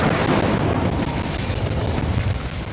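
Incendio fire spell cast in the Hogwarts Legacy video game, a loud sustained fiery roar and rumble that holds steady for the whole stretch, with no voices.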